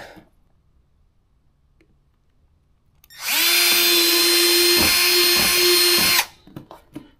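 A power drill bores a hole while building a pressure washer lance holder for a detailing cart, running loud and steady for about three seconds with a strained whine before winding down, followed by a few faint clicks.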